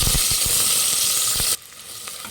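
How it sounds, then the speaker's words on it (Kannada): Onions and curry leaves fry in hot oil with a loud, dense sizzle and stirring clicks that drop suddenly to a much quieter crackle after a second and a half. "ಈಗ ಈರುಳ್ಳಿ ಚೆನ್ನಾಗಿ ಫ್ರೈ ಮಾಡಬೇಕು"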